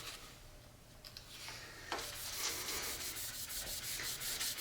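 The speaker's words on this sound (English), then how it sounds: "I addressed it with sandpaper. 180," Wood is sanded by hand with 180 grit sandpaper, a soft rasping rub that starts quietly and then turns into brisk repeated back-and-forth strokes, close and steady.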